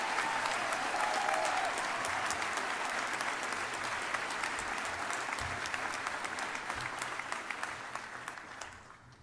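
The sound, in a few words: audience applause for graduating MS and PhD students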